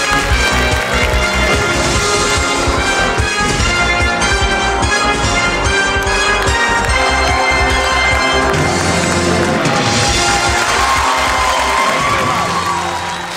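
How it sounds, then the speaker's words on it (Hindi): Loud studio audience cheering and applause fill a comedy show set, The Kapil Sharma Show, a dense continuous roar of claps and shouts that holds steady throughout. "एक बार जोरदार तालियां हो जाए।"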